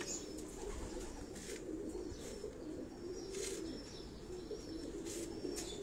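Pigeons on a Karachi rooftop coo softly in repeated low calls over a quiet background, with a few faint chirps and no voices.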